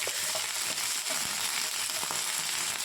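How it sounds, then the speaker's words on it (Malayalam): Broken dried chilies and curry leaves frying in coconut oil after mustard seeds have popped, a close, steady hiss of oil with scattered small crackles throughout. "കടുകെല്ലാം പൊട്ടിത്തീരുമ്പോഴേക്കും രണ്ട് ഉണക്കമുളക് നുറുക്കിയതും കുറച്ച് കറിവേപ്പിലയും ഇട്ട് മൂപ്പിച്ച് തുടങ്ങാം"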